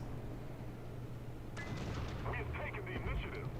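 In War Thunder, incoming tank shells strike a German Tiger II 105mm tank: a sudden loud impact bursts over the low engine drone, followed by a rattling series of crackling hits.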